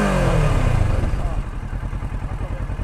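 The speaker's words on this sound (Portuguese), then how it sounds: "olha o escapamento original dessa moto" A Kawasaki motorcycle on its original exhaust revs up and then drops back to a loud, pulsing idle nearby.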